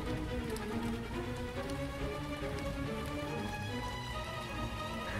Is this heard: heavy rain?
yes